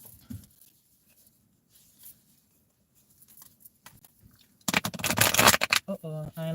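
A deck of cards is shuffled in a brief, loud riffling burst near the end, after a quiet stretch with faint handling noises and scattered soft sounds, followed by a short tonal sound.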